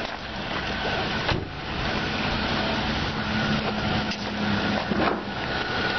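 The 3.5-litre V6 engine of a 2007 Nissan Quest 3.5S idles with the hood open, a steady close mechanical hum with a low drone, broken by a few brief clunks and rustles.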